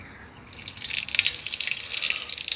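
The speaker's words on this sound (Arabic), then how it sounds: "هاي تصير الحنفية" Water from a public tap fed by mountain spring water beside a cemetery in Turkey, heard as a steady hiss of splashing and trickling that starts after a brief quiet moment and continues without pause.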